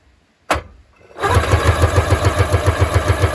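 A 1997 Sea-Doo XP 787 personal watercraft, started by bypassing the switch and jumping the solenoid, gives a sharp click, then cranks briefly and catches into a loud, steady two-stroke idle with a rapid regular pulse.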